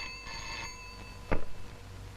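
A telephone rings in an agency office in a Telugu film scene: a short bright bell trill, fairly faint, followed by a dull thud and quiet room tone, with no speech.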